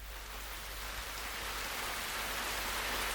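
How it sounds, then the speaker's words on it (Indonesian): Steady rain falls at a bus stop, a continuous even hiss of drops with a low rumble beneath, no voices present. "Hujan belum berhenti."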